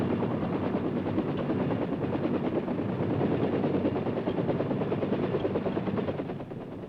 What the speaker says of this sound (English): the chopper is moved to a different part of the field